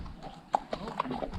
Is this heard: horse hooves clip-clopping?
yes